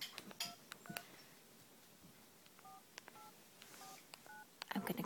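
A telephone keypad dials a number, a series of short DTMF beeps in uneven bursts over a quiet room, faint and close, with brief background voices.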